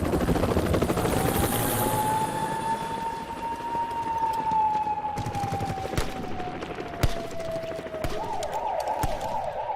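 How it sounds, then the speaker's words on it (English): A helicopter's rotor chop thrums and fades away while a police siren wails, its pitch slowly rising and swelling, then warbling rapidly near the end. "the sound of the helicopter accelerates away as the incoming police siren rises in pitch"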